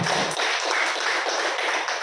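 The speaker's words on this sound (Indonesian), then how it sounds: "Tepuk tangan untuk kita semuanya." Audience applause at a school gathering, a dense, steady patter of many hands clapping together that carries on evenly for about two seconds after a brief voice at the start.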